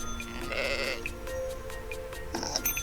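Video game sheep bleat during a sheep-counting game, two or three wavering bleats over a steady electronic music bed, with faint key presses and no speech.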